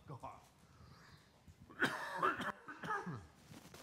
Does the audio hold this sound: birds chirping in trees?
no